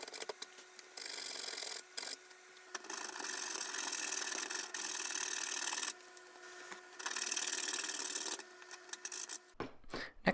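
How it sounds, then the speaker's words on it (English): A round file rasps back and forth in dowel holes in a wooden tabletop being fitted with a breadboard end, in bursts of steady scraping broken by short pauses, close and loud, with no talk. "The next step is to take a round file and elongate these holes."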